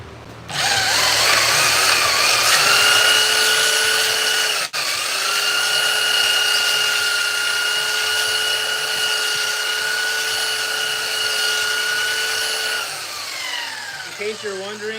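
Power sander with 40 grit sandpaper levelling a large table, a loud, steady high-pitched motor whine with a grinding hiss that runs without a break until it winds down near the end.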